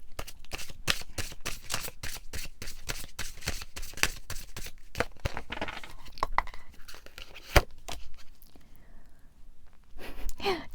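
Tarot cards are shuffled and drawn for a reading, with continuous close riffling and flicking, dense papery snaps, and a sharp slap near the end, while a voice talks softly over them.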